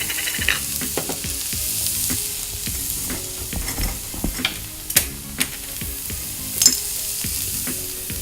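A stir fry seasoned with white pepper sizzles loudly in a large pan on a big burner, with repeated scraping and clanking stirs and a few sharp metallic knocks across the steady frying hiss.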